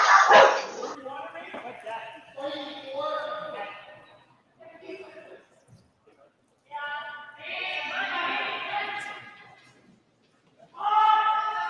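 Several dogs barking excitedly at a package delivery, bursts of loud, overlapping yips and barks in clusters with pauses between, near and prominent.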